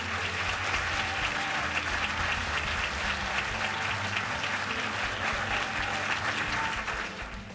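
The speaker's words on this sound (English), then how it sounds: "A round of applause for Alice Waters!" An audience at a GreenWise conference in Sacramento claps, a dense, sustained burst of applause filling the room that stays steady and then fades slightly at the end.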